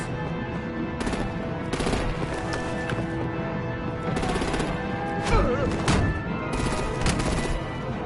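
Artillery and gunfire in a Batman Telltale game: loud, rapid bursts of shots run almost without a break, with crashing impacts mixed in and no clear speech.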